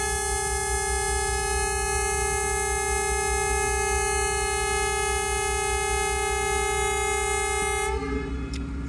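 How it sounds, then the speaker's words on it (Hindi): A loud, sustained train departure horn for the Khyber Mail in Lahore blares steadily as one long unbroken chord, then stops sharply, leaving a brief rumble of the rail yard. "फर्स्ट डिपार्चर हॉर्न सुन लिया आपने।"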